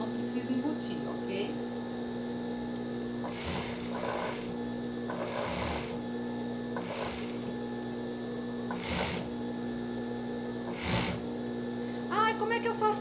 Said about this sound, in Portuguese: agora aqui eu costuro normal, porque eu vou pôr essa parte na base